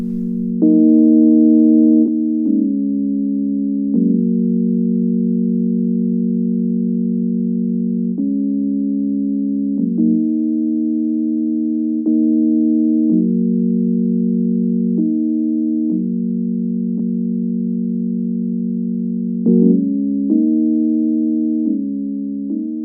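Soft, pure-toned synth chords, each triggered by two onions colliding and louder for harder collisions, change every couple of seconds at varying loudness, clean and sustained, with no voices.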